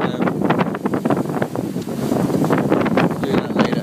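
Strong wind blows at sea aboard a sailboat pounding into waves in 16 to 20 knots, with loud, gusty microphone buffeting and rushing water close and continuous throughout.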